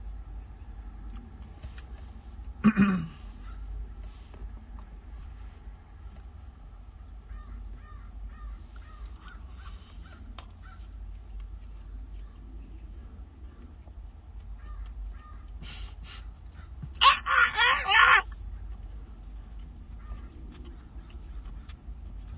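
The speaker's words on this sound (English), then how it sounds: "You hear these crows, bro?" Crows caw at a distance, one short burst early and a louder cluster of harsh caws later, over a quiet low rumble.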